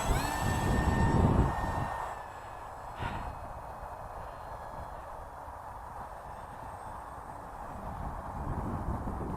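A Micro SkyHunter RC model plane's engine drones at a steady high pitch over a flying field, louder at first and then fading a little as it moves off, with wind and rustling nearby.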